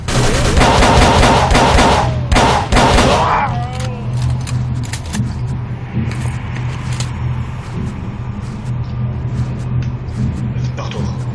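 Gunfire in the video game Call of Cthulhu: loud, rapid bursts of shots crowd the first few seconds, then give way to a quieter low hum and background ambience.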